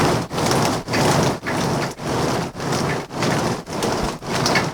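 Synthesized rain from a Music Thing Modular Workshop System, a broadband hiss chopped into a steady pulsing rhythm of about eight even bursts, loud and alone.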